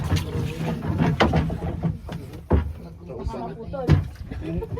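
A boat ride among the Hundred Islands off Alaminos City, Pangasinan, with wind and water knocking against the hull in irregular thumps while people chat throughout.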